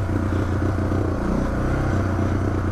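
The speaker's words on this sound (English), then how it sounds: "Down back into first, engine brake down this bad boy" Suzuki DR650 single-cylinder motorcycle engine braking in first gear, a steady low droning thump with a dense pulsing rumble that holds close and loud throughout.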